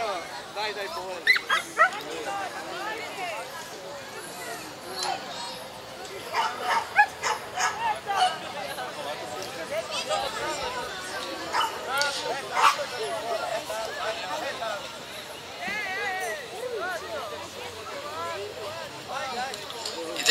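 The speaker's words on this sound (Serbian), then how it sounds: "Tri rasna psa." Dogs bark and whimper amid a crowd at an outdoor children's dog show, with repeated yips and bow-wows over a steady hubbub of voices and speech throughout.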